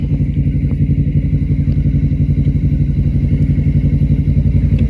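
A motorcycle engine on a road in Japan, rumbling close and steady at a fast, even pulse throughout, with a faint clatter on top and no voices.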